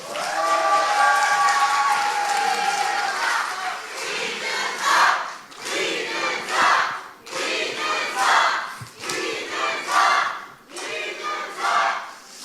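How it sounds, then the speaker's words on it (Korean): Crowd at the Reform Party national convention cheers and applauds loudly for the newly elected party leader before his acceptance speech, a dense roar of clapping and shouting that swells and dips in waves. "여러분 큰 박수 주십시오"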